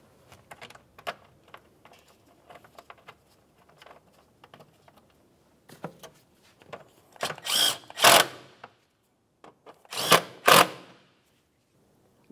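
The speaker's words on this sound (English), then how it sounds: "Continue on with your two mounting bolts. Start them both in and then snug them up." Bolts being started and snugged on a 2004-2015 Nissan Titan water pump: faint clicks and ratcheting at first, then two louder short bursts of a power tool driving them in.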